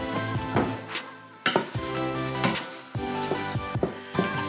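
About three quarters of a large white onion sprinkled with a tablespoon of sugar, sizzling in an Instant Pot while being stirred, with repeated scrapes and clinks of a utensil against the pot over a steady frying hiss.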